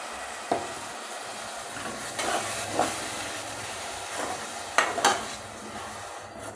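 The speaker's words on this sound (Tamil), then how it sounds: "இப்போ நம்ம இந்த தக்காளி அரைச்சி வச்சுருக்கேன், அதை ஊற்றிடலாம்." Blended fresh tomato sizzles in a hot pan for tomato rice, a steady hiss with occasional stirring scrapes and spatters, close up and without any voices.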